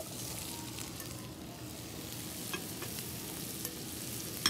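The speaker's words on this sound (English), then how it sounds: "So we're going to add our carrots and potatoes." Carrots and potatoes going into a hot pot for a Louisiana pot pie, giving a steady broad sizzle with soft stirring scrapes and a few light clicks, close and continuous without speech.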